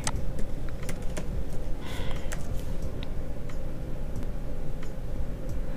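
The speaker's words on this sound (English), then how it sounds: "let me type in yellow glitter" Typing on a computer keyboard, with rapid, steady clicking of keys and a few sharper taps close by, over a constant low hum, no voices.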